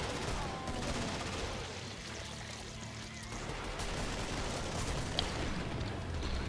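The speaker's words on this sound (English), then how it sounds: "I shot one grenade and then realized I needed to reload my grenade launcher" Grenade launcher fire and blasts in the co-op shooter Killing Floor, muffled bursts mixed with a dense noisy wash of game action, fairly faint and continuous.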